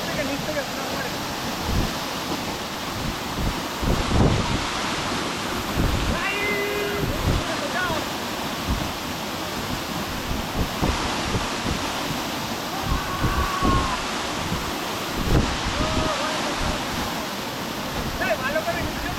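Rohini Waterfall rushing water, a steady loud broadband roar of falling water throughout, with people talking and calling out over it at close range.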